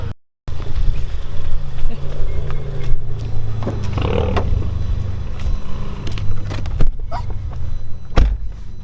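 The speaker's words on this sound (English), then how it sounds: "that car is loud" A loud Ford Focus RS engine roars and revs nearby, with rumbling low tones and a few sharp bangs, while people talk over it.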